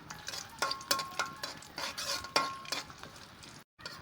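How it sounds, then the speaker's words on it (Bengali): Dried chillies fry in oil in a wok while being stirred, with a series of sharp scraping and clattering spoon strokes over a soft sizzle, close and fairly loud, ending in a brief silence. "এই তেলে এখন আমি আমার রেখে দেওয়া শুকনো মরিচগুলো দিয়ে দিব"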